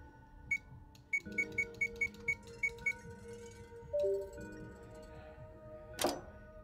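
A barcode reader in the video game Zero Time Dilemma gives a rapid series of short, evenly spaced electronic beeps, then a lower tone and a sharp closing chime, clear against a quiet background.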